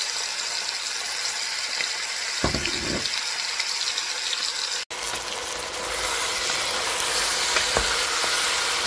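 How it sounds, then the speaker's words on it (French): Shrimp sizzling in hot oil in a home kitchen, a steady bright frying hiss running throughout with a few clatters of stirring, close and alone with no talk. "Une fois l'huile est bien chaude, faire revenir les crevettes"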